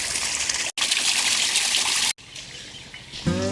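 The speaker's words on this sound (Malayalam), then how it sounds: "ഇത് കിണറിൽ നിന്ന് പമ്പ് ചെയ്യുന്ന വെള്ളം കൃഷി സ്ഥലത്തോട്ട് വെള്ളം അടിക്കുന്ന പരിപാടിയാണ്." A motor pumps water from a well to farmland, giving a steady gushing rush of water that cuts out twice. Birds chirp faintly in the open air, and there is no talk.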